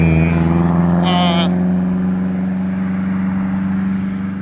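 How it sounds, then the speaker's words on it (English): A loud little car passes by outdoors at night, giving a steady, humming engine drone that stays strong throughout and eases off slightly at the end. "Terry, Robert, this nice loud little car going by right now."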